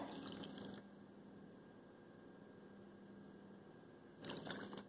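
A faint, steady pour of water into sugar with a soft hiss, louder splashy moments at the start and end.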